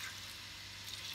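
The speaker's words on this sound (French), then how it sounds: "On vient y mettre un tout petit peu d'eau, léger au début," A small splash of water poured lightly into a pan of mixed tchakchouka ingredients, a steady soft hissing trickle lasting the whole moment, with no talking.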